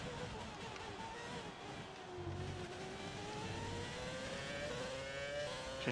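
A Renault Formula 1 car engine in the F1 2020 racing game holds a loud, steady high-pitched drone that slowly climbs in pitch as the car accelerates, running continuously over a dense wash of background noise.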